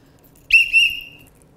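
A person whistles two bright, sustained high notes, loud and close, the second held longer before fading, with no talk over it.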